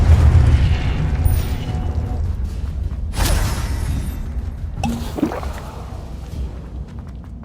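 Confringo blasting spells go off in Hogwarts Legacy with booming explosions, a heavy low rumble opening and sharp bursts following a few seconds apart over lingering combat noise.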